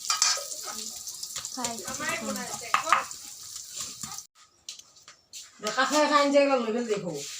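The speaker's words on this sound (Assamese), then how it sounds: "এতিয়া মাংস বনি আছে" Meat sizzles and gets stirred in a pan over a wood fire, with scraping stirs under frequent nearby talking.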